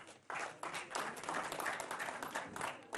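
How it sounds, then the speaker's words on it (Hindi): A studio audience at a television debate applauds, a sudden burst of clapping that starts sharply and carries on in uneven, moderately loud waves. "ताली बजाइए जोर से।"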